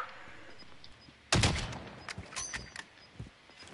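Gunfire in a Call of Duty match: a sudden loud burst of shots cracks out, followed by scattered fainter pops and rattles in the background.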